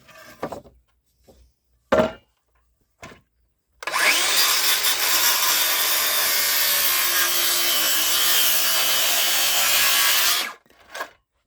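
Wood being sawn to cut hip rafters for a hunting blind: a few sharp knocks and taps, then one long, loud, steady stretch of cutting lasting about seven seconds, with a brief knock afterward.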